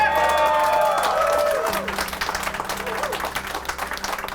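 Applause from a crowd at a Canada Day speech event, a short burst of clapping and some cheering that fades quickly, following a voice over a PA and with people talking.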